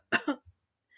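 A single person clears their throat with two quick, rough bursts and a small low grunt after, close and alone in silence.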